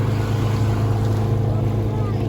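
A ferry's heavy engine drones steadily at close range, a loud, continuous low rumble with a faint whooshing layer above it.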